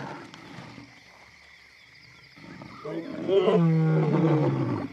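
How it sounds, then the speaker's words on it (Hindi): A lion roars in the wild, the call rising from quiet background into a loud, deep, drawn-out roar over the final two seconds, close and dominant. "वो मायूस होकर फिर दहाड़ने लगता है"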